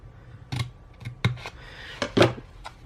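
Scissors snip through a paper planner checklist in several crisp, close cuts, spaced irregularly with a quick double snip near the end, with no talking.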